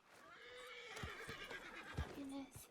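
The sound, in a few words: horse neighing in a video game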